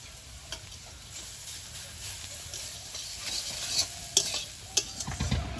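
Potatoes frying in a pan while being stirred, a soft continuous sizzle beneath scattered scraping and clinking of the spatula that grows busier toward the end.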